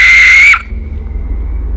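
A death whistle gives a short, piercing, scream-like shriek of about half a second, loud and close, then cuts off into low background rumble.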